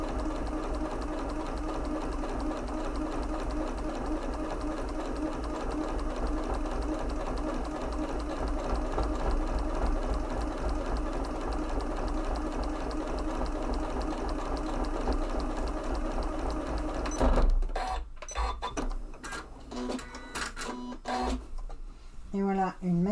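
A Janome 9480 sewing machine topstitches quilted fabric in a steady, fast mechanical whir that runs unbroken for about seventeen seconds, stops abruptly, and then someone speaks in French.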